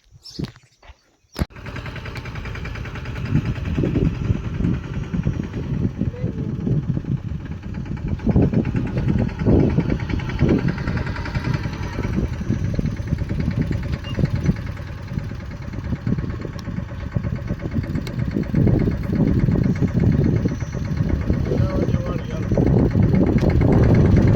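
A tractor engine chugs and rumbles steadily nearby for the whole stretch, heading out to spread superphosphate fertilizer in a field, with a low knocking throb and faint background sounds.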